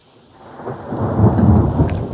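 Thunder swells from quiet into a deep, heavy rumble that rolls on loudly, with rain falling in the background.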